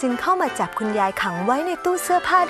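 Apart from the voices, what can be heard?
None of the usual background noises is heard.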